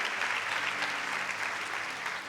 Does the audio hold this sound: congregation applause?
yes